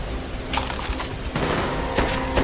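Gunfire from a Call of Duty: World at War match rattles in quick bursts of several sharp shots over a busy game backdrop, with no talking heard.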